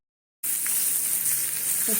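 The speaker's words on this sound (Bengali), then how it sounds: "চলো এটাকে আমি ভাজি তারপরে আসছি" After a brief silence, capsicum starts frying in a pan for a prawn dish. A close, steady sizzle begins abruptly and continues to the end.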